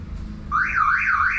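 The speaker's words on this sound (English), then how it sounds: "If you take the battery off, the alarm will go off." A Viper 5906v car alarm fitted to a Mk4 Toyota Supra goes off after the battery is disconnected, sounding a loud rising-and-falling siren wail that starts abruptly and continues alone.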